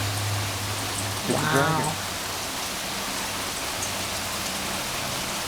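Hail pours down steadily during a hail storm, a dense, even rush of patter hitting the ground close by, with one brief exclamation from a voice partway through.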